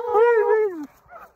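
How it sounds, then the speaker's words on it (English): A husky sled dog in snowy Lapland, Finland, lets out one drawn-out, tonal yowl lasting under a second, followed by a softer, brief whine, close to the listener. "Husky safari, otherwise known as dog sledding here in Finland."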